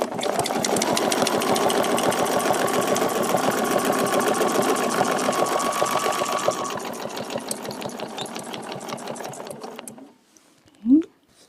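A quilting machine stitches a spaced feather design in a fast, steady mechanical rhythm, near and loud. It slows somewhat toward the end and then stops, followed by a brief low sound.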